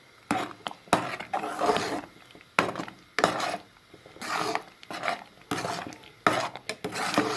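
A spoon scrapes and stirs thickening fruit custard in a pot, coming in repeated bursts of clinking and scraping with short pauses between strokes, close and moderately loud with no voices.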